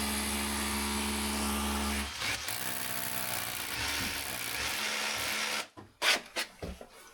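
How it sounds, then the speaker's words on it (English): A power drill fitted with a 6mm bit bores steadily into a wall for about two seconds, then continues in rougher, grinding bursts before a few short knocks and scrapes as it stops. "I'm using a 6mm drill bit with red plugs"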